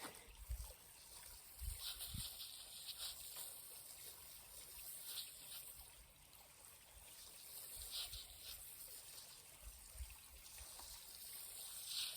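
Water trickles and splashes steadily onto soil while newly planted radish and corn are watered in a garden, a faint continuous patter with occasional louder splashes and no talking.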